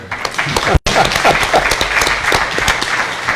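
Loud, close applause breaks out from an audience at a talk on investigative reporting, continuing thick and steady after a brief gap near the start.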